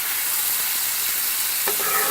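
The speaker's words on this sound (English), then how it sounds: "the pan is still sizzling hot" Steady broadband sizzle of mushrooms frying in a pan on high heat, constant and close, with a couple of faint utensil clinks near the end.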